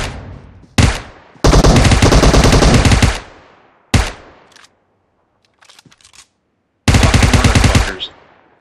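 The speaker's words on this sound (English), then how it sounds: "I shot the ground." Loud, close video game gunfire in a Rambo-style shooter: several long rattling automatic bursts separated by sharp single shots and brief silences, with no talk.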